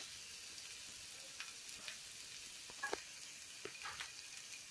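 Finely chopped garlic frying gently in a pan, a quiet continuous sizzle with occasional small crackles and stirring ticks, close and without any voices.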